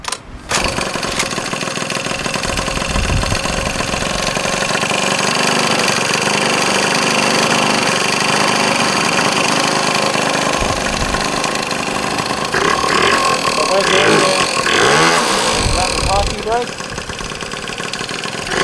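Honda Gyro Up scooter engine kicked to life and then idling steadily close by, a continuous mid-pitched engine drone with people talking over it.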